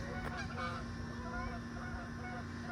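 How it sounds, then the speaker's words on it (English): Several geese flying in to land on a river honk repeatedly in the distance over a steady low hum, their calls overlapping faintly throughout, heard from a garden in September. "You can hear geese coming in."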